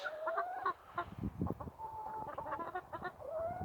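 A rooster clucking and calling up close, a string of short throaty vocalizations with no talking.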